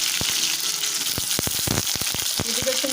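Potatoes fry in hot oil with a close, busy sizzle broken by frequent sharp crackles and pops, some wet bubbling in the mix.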